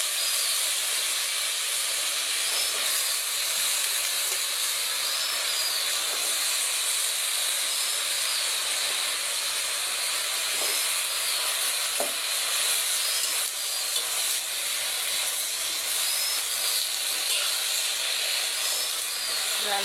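Malabar spinach frying and steaming in a cooking pot on a homemade stove, giving a steady, even hiss and sizzle that runs unbroken for about twenty seconds without speech.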